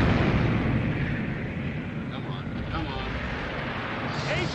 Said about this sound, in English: A-turret, she's firing